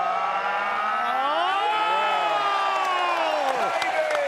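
A crowd cheering and roaring at a bowling final match in Canberra, with whoops and applause swelling over a sustained rising and falling wail, loud and continuous throughout.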